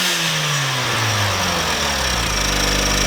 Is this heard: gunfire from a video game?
no